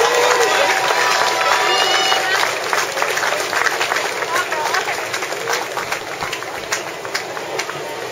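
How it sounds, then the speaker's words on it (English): Outdoor crowd applauding and cheering for the women winners of a street mile road race, a broad continuous roar of clapping and cheers with an announcer talking over it. "Let's give these ladies a round of applause."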